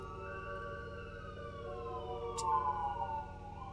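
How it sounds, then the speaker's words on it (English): A siren wails steadily in the background, its pitch gliding slowly as it passes, with a faint low rumble of traffic underneath. "wait for the ambulance to go by"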